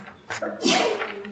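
A single sharp sneeze sounds at moderate distance during a town board meeting, preceded by a brief intake of breath.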